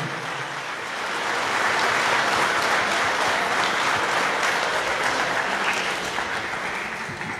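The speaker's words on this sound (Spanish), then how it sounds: "Un aplauso para ella" At a Sunday Mass a congregation applauds a girl's first communion: a full, sustained round of many hands that swells after the first second, holds steady, then eases slightly toward the end.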